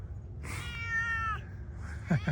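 A cat gives one drawn-out, wavering meow outdoors at a miniature zebu ranch garden, close and clear over a low background rumble, followed by a short chirp-like sound.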